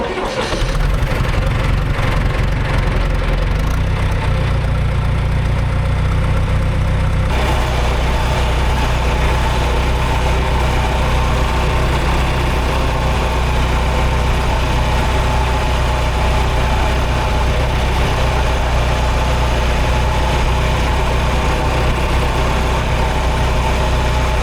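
A John Deere JD410 backhoe engine cranks, catches after several seconds and settles into a loud, steady, close-up idle that runs unbroken.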